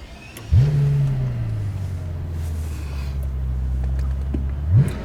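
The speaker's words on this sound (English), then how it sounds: "just keep the engine revving a little higher than normal" A 2008 Mercedes-Benz S65 AMG V12 revs sharply once, then settles into a steady elevated idle before another quick blip at the end, heard clearly without talk.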